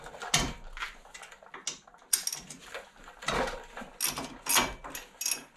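A breaker bar or socket wrench works on the 18 mm bolts of a 2005 Chevrolet Silverado front wheel bearing, giving a series of quiet, irregular metallic clicks and clunks close by.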